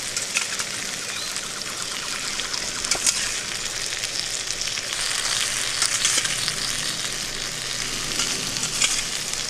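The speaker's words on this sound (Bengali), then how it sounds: "এরপর ভালো করে মশলাটা কষে নেব" Spice paste sizzles in a pan with prawns and taro stolons, a steady bright frying hiss from close by, with occasional stirring clicks and a few louder crackles throughout.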